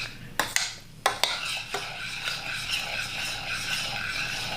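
A spoon clanks sharply against a metal pot a few times as macaroni and cheese is mixed, then settles into softer, wet stirring and scraping that carries on close by.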